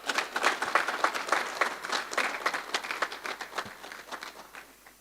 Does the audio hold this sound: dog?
no